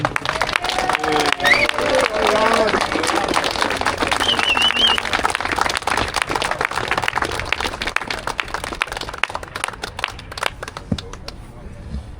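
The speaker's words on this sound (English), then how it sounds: "please give a Rochdale welcome and a nice loud applause to Sir Rajamir." A crowd at a street protest in Rochdale applauds and cheers, clapping dense and loud at first, then thinning out, with voices mixed into the noise.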